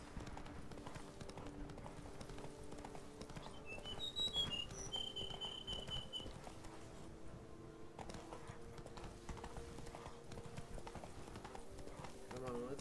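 Wild horses in the Witcher 3 video game clip-clop steadily with their hooves throughout, a busy game soundscape around them, with a brief whistle-like call near the middle and someone talking over it.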